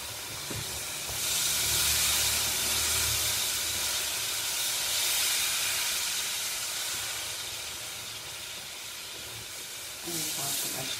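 Milk poured into a hot pan of semolina halva, setting off a soft, continuous hiss and sizzle that swells and fades over several seconds, heard quietly and close up.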